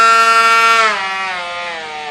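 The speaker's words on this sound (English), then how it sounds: "How do you adjust the speed of which the blade goes, the oscillating multi-tool? This is the highest speed setting." An oscillating multi-tool running at its highest speed setting gives a loud, sharp mechanical whine that holds steady, then drops slightly in pitch and volume partway through as it runs alone.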